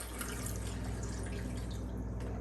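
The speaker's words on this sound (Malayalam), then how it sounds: "ഇതിനകത്തോട്ട് നമുക്ക് കപ്പ വേവാൻ പാകത്തിനുള്ള വെള്ളം ഒഴിക്കും." Water pours into a pot for boiling tapioca, a steady, close trickling splash lasting a couple of seconds with no talking.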